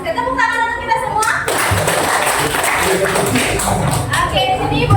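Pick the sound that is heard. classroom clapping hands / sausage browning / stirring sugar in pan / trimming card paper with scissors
classroom clapping hands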